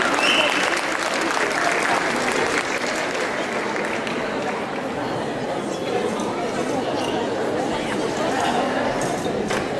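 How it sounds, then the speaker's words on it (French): A crowd at a cosplay parade claps loudly and steadily for several seconds, a dense, sustained round of applause. "On peut les applaudir encore bien fort"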